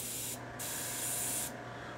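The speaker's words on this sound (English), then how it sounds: "So then I will spray some of this into my hobo bucket." An airbrush sprays paint cleaner into a cleaning bucket during Warhammer miniature painting, a soft steady hiss lasting about two seconds with brief gaps near the start and end.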